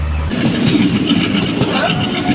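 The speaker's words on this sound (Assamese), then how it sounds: "এতিয়া ট্ৰেইন ৰখি আছে ট্ৰেইন এৰিব" A train stands at a station near Rangia on the way to Guwahati, about to depart, giving a continuous, fairly loud rumbling engine drone with a faint clatter and steady background noise.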